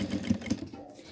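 A sewing machine stitches a short run and then backstitches at the end of a seam, making a brief close mechanical whirring with quick rhythmic pulses.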